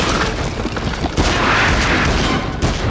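Gunshots ring out in the King Kong PS2 video game, a continuous loud barrage of rapid shots with booming hits filling the whole stretch, heard with no talk over it.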